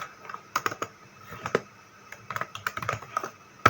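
Close computer keyboard typing comes in quick irregular bursts of clicking keys separated by short pauses.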